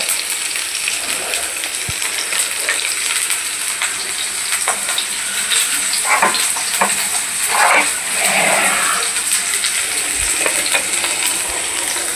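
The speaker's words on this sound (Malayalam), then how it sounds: "ചെറിയുള്ളി ഇട്ട് ചെറിയ ചൂടിൽ നമുക്കിത് വഴറ്റി വെക്കാം" Shallots sauté over low heat in a pan, giving a loud, dense, even sizzle with scattered crackles and a few soft stirring scrapes, and no voices.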